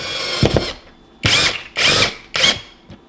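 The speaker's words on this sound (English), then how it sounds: "I'm going to use a drill to just put this into the wall." A power drill drives spacer screws into a wall during a wall heater install: four short, loud whirring bursts separated by brief pauses, close up and with no talking.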